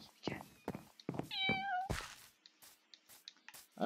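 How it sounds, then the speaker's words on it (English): A small kitten in the Minecraft video game gives a clear, high rising meow, with short thunks and clicks of gameplay and players talking around it. "Oh, it's a baby kitty!"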